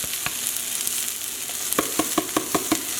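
Garlic and ginger stir-frying in a pan with bok choy, green onion and carrots: a steady sizzle under a run of sharp, rhythmic scraping taps of a utensil, growing more regular toward the end.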